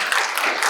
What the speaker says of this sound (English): So I want to give a big round of applause and welcome our keynote speaker